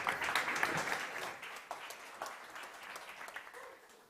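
Audience applause welcoming a startup on stage at a startup competition, loud at first and then thinning into scattered claps that fade over a few seconds.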